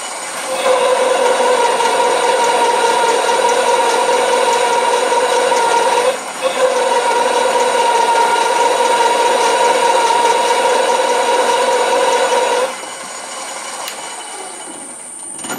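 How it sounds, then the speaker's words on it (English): A drill bit run at higher speed on a lathe or mill cuts steel for a pull gear speed reducer, giving a loud, steady whining grind for about twelve seconds with a brief dip near six seconds before it eases off. "I can speed it up, still keep the torque, and I'm not going to burn the drill bit"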